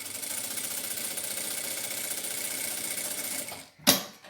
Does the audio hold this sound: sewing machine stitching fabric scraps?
yes